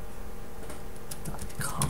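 Someone types quickly on a computer keyboard, a close burst of light clicking keystrokes that grows busier toward the end, with faint speech in the background.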